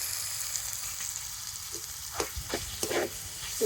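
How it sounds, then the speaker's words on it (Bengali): A halved boiled egg fries in a spoonful of mustard oil in a pan, giving a steady soft sizzle with a few sharper crackles and light stirring scrapes near the end, no voices. "তো সেটাকে একটু তেলের সাথে ভেজে নেব।"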